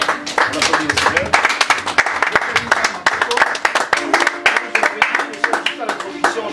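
A church congregation clapping for the Lord at a morning worship service, a ragged burst of claps close and loud throughout, with voices talking and calling out over it.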